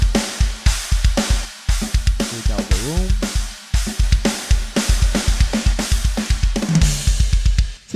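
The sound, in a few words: mixed metal drum kit tracks with Valhalla Supermassive reverb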